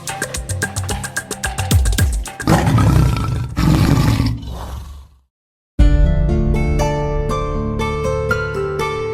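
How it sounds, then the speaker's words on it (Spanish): A loud, rough roar from a big animal, rising and rolling for several seconds before cutting to a brief silence, then music. "Primer gran rugido."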